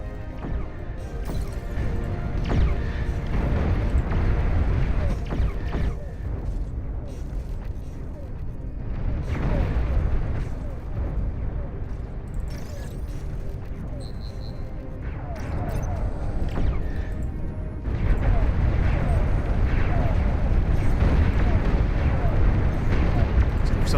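Loud, continuous battle din from the strategy game Beyond All Reason, with long-range plasma cannon shells exploding in overlapping rumbling blasts that swell and ease in waves, dense and heavy throughout.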